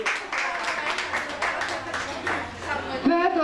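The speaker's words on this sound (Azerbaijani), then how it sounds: "Bir alqışlar da Kəmalə xanım üçün istəyir." An audience at a creative evening for the poet Zakir Musa oğlu applauds Kəmalə xanım. The clapping is steady and moderate, fills the room under a presenter's voice, and ends with a brief musical tone.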